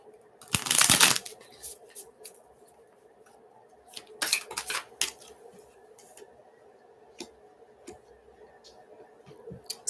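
Tarot cards being shuffled by hand in a quiet room, a loud riffling burst at first followed by softer bursts of card flicks and scattered light clicks.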